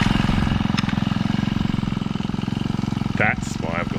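A 25cc Honda garden machine engine runs steadily at a fast, buzzing idle throughout, loud and close, with a brief rise in revs near the end and a person talking over it.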